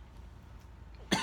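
A single short, sharp cough bursts out at the very end after a stretch of quiet room noise, during a live boxing fight reaction.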